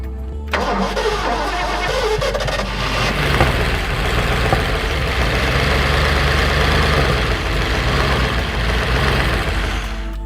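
The big block V8 of a 1964 Ford Galaxie four-speed cranks and catches, then runs rough and uneven at a loud, close idle with irregular stumbling pulses and no one talking.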